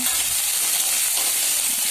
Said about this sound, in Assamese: এতিয়া পিঁয়াজ দি দিলোঁ।